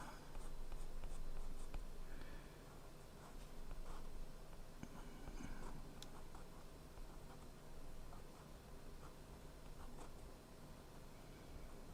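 A pen or pencil drawing a small fire in an Arctic comic, scratching and scribbling steadily across paper, close and continuous, with no voices.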